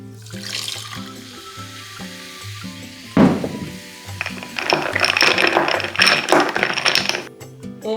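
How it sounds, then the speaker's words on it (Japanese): Sparkling water poured into a glass with honey and shiso drink, a splashing pour over a soft tonal background, then a dense crackling fizz of bubbles that stays loud and close; no talking. "そして炭酸水を加えます。"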